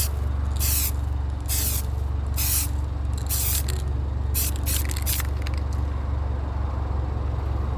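Rubber spray paint from an aerosol can being applied in thin coats to a car emblem for a matte black finish, several short hissing bursts of spray over a steady low hum.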